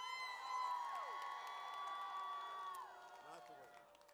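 A crowd at Murray State University's All Campus Sing cheers and whoops to vote for a song, loud, sustained, with high voices, easing off in the last second.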